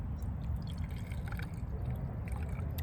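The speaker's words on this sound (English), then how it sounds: "let's go and pour some in my glass." Evan Williams whiskey trickling into a miniature Pizza Hut glass, a close, steady, soft pour with faint drips over low background rumble.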